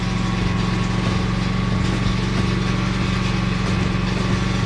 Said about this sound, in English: So I'm gonna go grab my belt sander